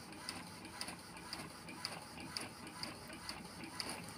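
A printer runs pages with a steady mechanical whir and a regular ticking pulse about twice a second, faint and continuous with no talking.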